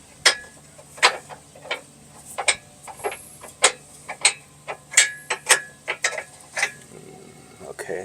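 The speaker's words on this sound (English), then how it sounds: "I'm going to work this bolt into here." A bolt being worked into the front lower control arm of a 2013-or-later Mazda CX-5 makes close, irregular metallic clicks, taps and ratchet-like ticks in a steady scatter, with no talk.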